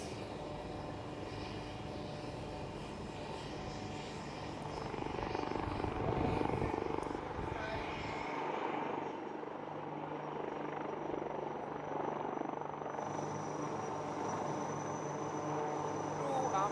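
Helicopters and jets of a military flying display at an air show, with a sustained loud roar of engines and rotor noise that swells and fades as aircraft pass, alone without talk.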